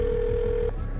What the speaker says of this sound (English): The Mosquito takes the phone and calls the last number.